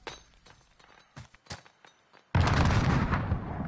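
A frag grenade goes off in a video game, a sudden loud blast with a long rumbling tail after several quieter scattered clicks and thuds, the explosion filling the final second and a half.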